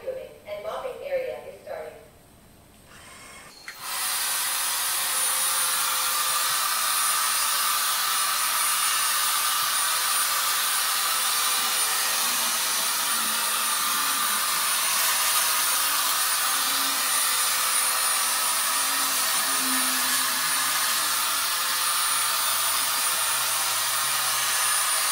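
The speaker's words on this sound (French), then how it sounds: "Nous allons lancer l'aspiration en mode turbo et le mode pour l'eau en high." A Viomi V3 2-in-1 robot vacuum runs in turbo suction mode with high-water mopping, giving a loud, steady, hissing whine that starts abruptly after a few quieter seconds and holds unbroken to the end.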